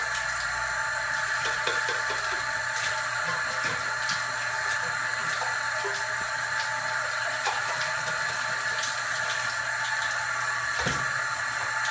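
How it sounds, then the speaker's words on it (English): Aquarium filter biomedia, Eheim Substrate Pro, being gently rinsed in water during a saltwater tank change: a steady soft wash of running water with scattered light knocks and clinks, and no talking. "Rinse out my biomedia real quick, just gently, nothing crazy"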